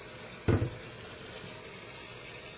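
Forceful water running from a newly installed kitchen faucet, a constant close hissing rush with one short splashy burst near the start.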